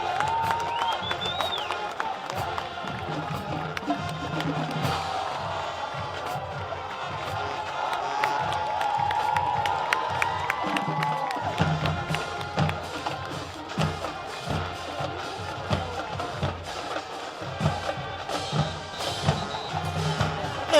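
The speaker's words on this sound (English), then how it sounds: "One more time, a round of applause for the Wekiva High School Mighty Marching Mustang Band." Stadium crowd at a high school football game cheering and applauding the Wekiva High School Mighty Marching Mustang Band, a broad roar of claps and shouts with band tones and a voice mixed in underneath.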